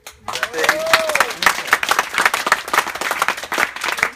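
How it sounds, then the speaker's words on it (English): Guests at a best man speech burst into a round of applause, dense clapping close by with a few voices and a whoop over it, rising quickly and holding steady. "Round of applause"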